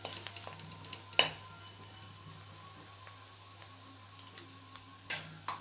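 Curry sizzles faintly in a pan, with a soft, steady frying hiss broken by a few sharp clicks and taps, and no talking.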